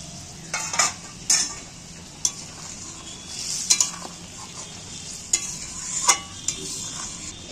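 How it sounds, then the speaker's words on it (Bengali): Soybean chunks tipped into a pan of vegetarian soybean and paneer curry and stirred, giving a low sizzle with several sharp utensil scrapes and knocks at irregular intervals, close by. "এবার আমি সয়াবিনগুলো তুলে দিচ্ছি।"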